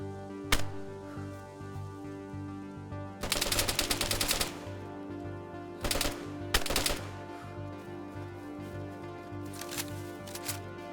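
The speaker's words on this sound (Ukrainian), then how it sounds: "він біжить прямо на мене і стріляє через кущі" DayZ gunfire in short bursts of rapid automatic shots separated by quiet pauses, with steady background hum from the game.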